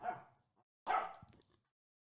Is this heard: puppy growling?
yes